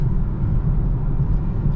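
A 2019 BMW 440i xDrive with all-wheel drive pulls hard in sport mode, heard from inside as a steady, deep engine drone with no clear break for a gear change.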